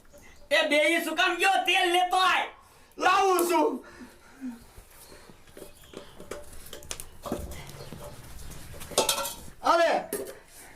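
A metal kadai pan handled in a home kitchen while Maggi noodles cook, clinking and scraping in short bursts between loud voices that talk over it.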